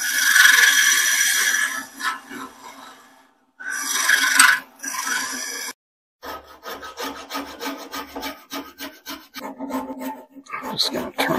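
A tool scrapes and cuts a wooden mallet spinning on a woodturning lathe at 1500 RPM, in close, rasping bursts broken by short pauses, then a run of quicker, rattling strokes.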